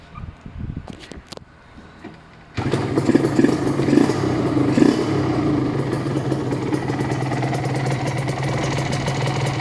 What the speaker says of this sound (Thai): ฟังเสียงเครื่องกันดีกว่า